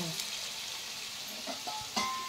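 Potatoes frying in a pan for aloo fry give a steady close sizzle, with a few soft stirring scrapes and a brighter clatter near the end.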